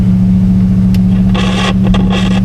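A 1972 Buick Skylark engine idles loud and close in a steady low drone, with a few brief brighter bursts of noise over the running motor.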